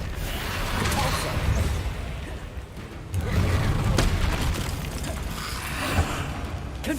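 Booming spell blasts and impacts from combat in Hogwarts Legacy, several loud thuds and rumbles in quick succession with a dense, crashing game soundscape throughout.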